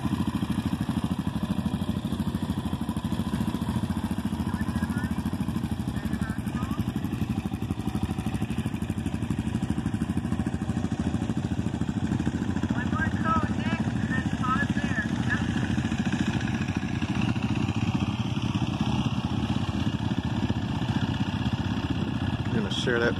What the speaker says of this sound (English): He's practicing the starting and stopping on the DRZ400, which is actually a street legal dual sport.